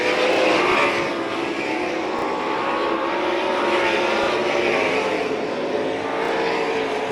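UMSS sprint cars race at St. Croix Valley Raceway, a dense, continuous roar of several engines droning together, with the pitch swelling and fading slightly as the cars circle the track.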